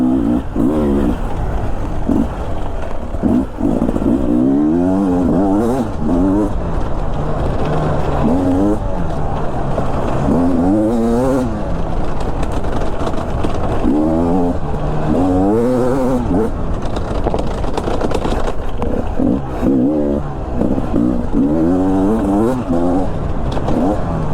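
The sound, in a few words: Beta 300 RR Race Edition motorcycle riding through trees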